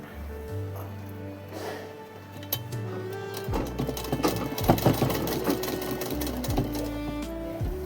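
A sewing machine stitches canvas onto a coat suit, its needle running in steady bursts of rapid mechanical clatter that start and stop close by, with no talking.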